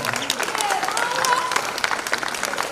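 Brief audience applause for a high school scholarship recipient at an awards evening, a steady burst of clapping with some crowd murmur and a voice briefly underneath.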